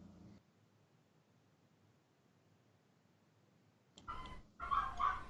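A dog gives a few close barks near the end, after a long stretch of quiet room noise, with no talk over them.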